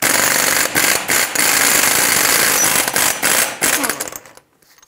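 A 34mm axle nut comes off a 2007-2014 Chevrolet Silverado 2500 HD with an impact wrench. It rattles loudly and close in several long bursts with short pauses, then stops abruptly.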